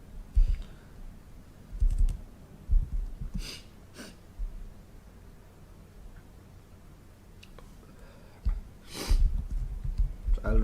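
Keys clatter on a computer keyboard as code is typed, coming in short, irregular bursts with quiet gaps between them. Faint breathing sits low in the background.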